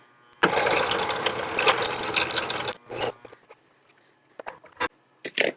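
A fishing reel winds lead core line onto its spool, giving a loud, fast ratcheting whir for about two seconds, then scattered short clicks and brief bursts of winding.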